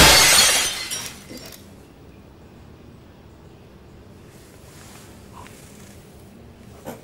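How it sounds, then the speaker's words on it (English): A brick smashes a glass window in the horror game The Classrooms: a loud, bright shatter bursts at the start, then fades within about a second into a quiet, low ambient hum. "Need to break the glass."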